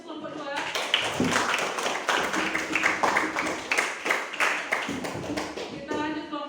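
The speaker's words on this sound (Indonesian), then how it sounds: "Kita kasih aplaus kelompok 2." A classroom audience claps for a student group after a presentation, a dense burst of applause lasting several seconds, close and fairly loud, with a voice speaking over the clapping.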